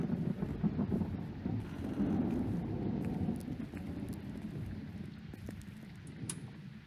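Thunder rumbles low and heavy through a steady rainstorm, with rain hissing throughout and rolling swells of thunder rising and fading over several seconds, no voices.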